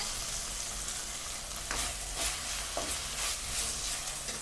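Chowmein vegetables stirred in a hot pan with green chili sauce and vinegar, a loud steady sizzle broken by several scraping stirs, close up, with no one talking.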